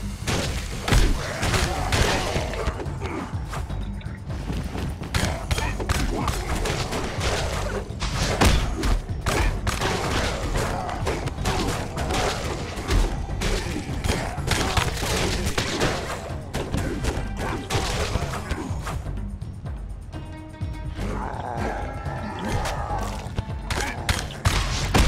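Rifle fire in the game Dead Island: Epidemic, dense rapid shots and heavy thuds in continuous bursts over a long stretch, mixed with impacts and occasional faint voices.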